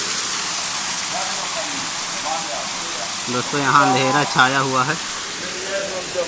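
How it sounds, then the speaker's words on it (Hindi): A large waterfall runs inside a vast cave, its steady broadband roar filling the space throughout while someone speaks over it. "दोस्तों काफ़ी विशाल झरना चल रहा है"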